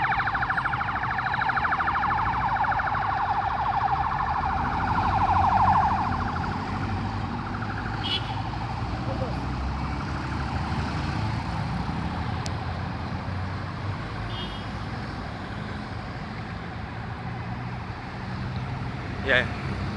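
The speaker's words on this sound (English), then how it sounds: "You hear sirens?" Emergency vehicle sirens wail through a nighttime street scene, a steady rising and falling tone sitting over constant traffic and city rumble, moderately loud and continuous throughout.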